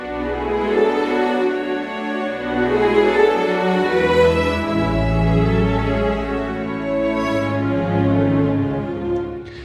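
A line from the Appassionata Strings library heard in a fuller string arrangement, second violins moving over low sustained bass notes, with violas imitating, lush and continuous with no talking.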